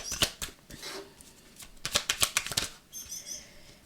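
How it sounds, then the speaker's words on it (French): Tarot cards slip and fall from a deck in quick, papery flutters and slaps, with a burst of rapid card flicks in the middle, close and fairly quiet. "Allez, les cartes commencent à tomber."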